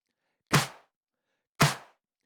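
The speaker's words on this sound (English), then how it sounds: "So this is how snare sounds with all the claps together." Synthesized snare drum layered with hand claps, two sharp, bright hits about a second apart, each with a short noisy tail, in otherwise silence.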